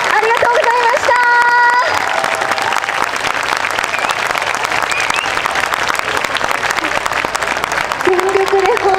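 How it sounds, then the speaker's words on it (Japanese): A large festival audience at the YOSAKOI Sasebo festival applauds a YOSAKOI dance team, loud sustained clapping close and continuous throughout, with some crowd noise and a brief tonal sound early on. "肥後マグマ九州合算の皆さんに盛大な感謝の拍手をお願いします。"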